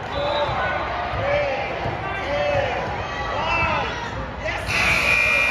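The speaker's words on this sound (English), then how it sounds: "Sammy gets a shot up at the buzzer." A loud electronic buzzer blares near the end over a noisy gym at a girls' basketball regional tournament game, with sneaker squeaks, bouncing and a commentator talking throughout.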